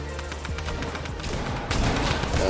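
Rapid bursts of gunfire in Fortnite, a beach assault match, crackle and pop in quick fusillades, with sharper, louder shots joining toward the end, with no talking.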